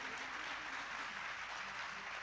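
Audience applause for a kalash procession at a Hindu religious discourse gathering: steady, dense clapping from many hands, continuous and fairly loud throughout, with no voices over it.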